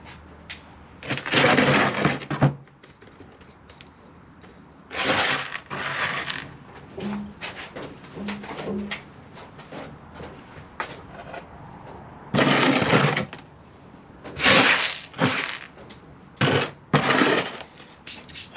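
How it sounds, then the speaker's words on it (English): Long extensions of a Portulacaria afra bonsai are trimmed in a quiet room, with several separate bursts of crisp snipping and crackling spaced a few seconds apart and short brisk cuts between them. "then we just need to trim these long extensions back."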